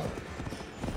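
Rapid clip-clop of horse hooves galloping in the video game Assassin's Creed Valhalla, a quick steady beat over a dense background wash, fairly close.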